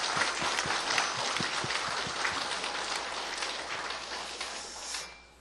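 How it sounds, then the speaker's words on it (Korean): A church congregation claps for a choir during an early-morning service, a steady wash of applause that fades out near the end. "한 번 더 축복하며 박수하겠습니다"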